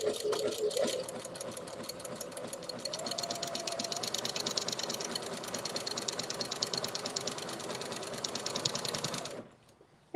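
Sewing machine back stitching quilt-as-you-go pieces, a steady rapid mechanical hum with even needle clatter running continuously for about nine seconds before stopping abruptly, close and fairly loud with no talk.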